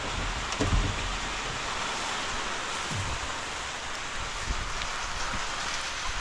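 Steady rain pours down outdoors onto a garden with pumpkins and filling barrels, a dense even hiss with a few soft low splashes and patters, no voices.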